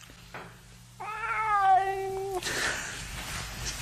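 A pet cat gives one drawn-out, clear meow close by, rising and falling over about a second and a half, followed by a brief rustling noise; no one speaks.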